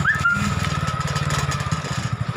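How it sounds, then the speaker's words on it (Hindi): Motorbike engine running in first gear while descending a steep hill road in the Aravalli hills near Gogunda, a steady low pulsing rumble with a faint whine, close and continuous. "तो आप मोटर बाइक को उतारे हैं तो फर्स्ट गियर पे आना पाची रख दो।"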